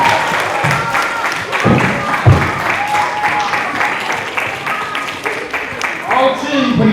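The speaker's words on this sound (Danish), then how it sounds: "Skal vi lige klappe dem i gang?" Audience clapping at a drawing festival in Horsens, dense and continuous throughout, with voices and crowd noise mixed in.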